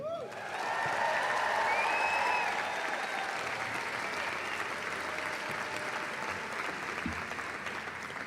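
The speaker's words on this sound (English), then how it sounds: "And of course, another round of applause for Shani Gannock." An audience at the 2025 ECMA red carpet event breaks into sustained applause that swells in the first seconds, then settles into even, continuous clapping with a faint crowd murmur beneath.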